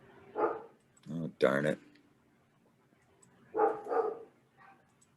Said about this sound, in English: I don't know if my wife is as good at shutting up dogs as I am.